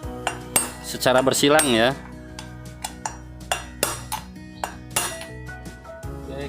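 Front wheel bearing of a Ninja RR motorcycle driven into place with a hammer and bearing driver, giving several sharp metallic strikes spread out at irregular intervals, close and fairly loud, after a brief stretch of talk.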